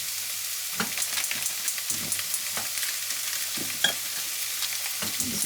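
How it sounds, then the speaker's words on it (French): Butter, a Breton variety, melting in a pan at the start of a béchamel for lasagne, giving a soft steady sizzle with scattered light scrapes and clicks from a utensil close by, no talking. "On fait fondre un bout de beurre."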